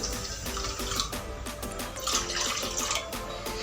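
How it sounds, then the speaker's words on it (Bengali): Water pours and splashes steadily into a metal pan, two cups for a sugar syrup, a continuous close rushing sound with a faint ringing hum underneath. "এখন এর মধ্যে দিয়ে দেবো আমি 2 কাপ পানি"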